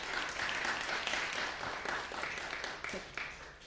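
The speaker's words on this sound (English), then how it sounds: "I think we should have a round of applause." An audience at a young writers' finale ceremony in the Cayman Islands gives a round of applause, heard as fairly quiet, sustained clapping from a crowd with a slight fade near the end.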